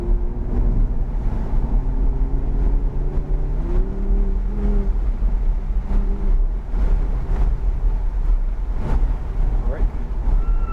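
Race car on a coned driving course, a low engine drone running steadily throughout with a brief rising rev near the start, while someone talks over it.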